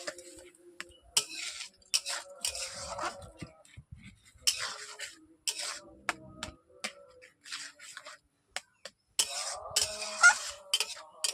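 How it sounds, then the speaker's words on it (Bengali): Fish roe chutney stirred in a pan after sugar is added, intermittent scraping and clinking bursts of a spoon against the pan, close and fairly quiet, separated by short pauses. "চিনি দেওয়ার পর এইভাবে আমি নেড়ে নিচ্ছি"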